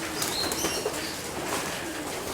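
Pigeons in an aviary, fed a breeder seed mix, flutter and shuffle amid soft chirps and a faint coo, a quiet busy scene close by with no talking.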